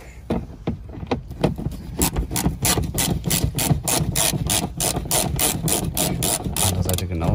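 A hand ratchet loosens a T25 screw under a Jubi-style replica bumper lip on a VW Golf 4 1.6, giving a steady, rapid series of close metallic clicks that speed up and continue throughout.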